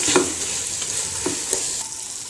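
Spicy-sweet-sour tamarind pickle being stirred in a pan, with a few soft scraping strokes of the spoon over a quiet steady sizzle, close and alone.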